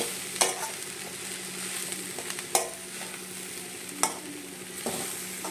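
Spices dry-frying without oil in a pan as a garam masala side dish is stirred, a steady faint sizzle broken by several sharp spoon scrapes against the pan, close by with no voices.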